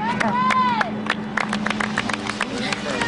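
A crowd of people clapping and cheering outdoors at a reality-show competition, with rapid scattered claps and loud voices mixing in over a steady background hum.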